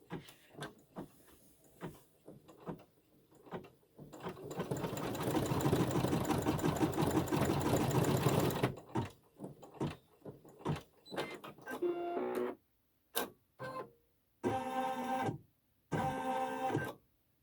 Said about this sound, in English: Now it's going to stitch the thread that's on the cone.